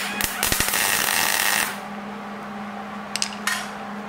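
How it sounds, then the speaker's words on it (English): Welding a homemade go-kart chain: a loud, dense crackling buzz with sharp pops for about a second and a half, then quieter background with a few brief crackling bursts. "Let's weld her up."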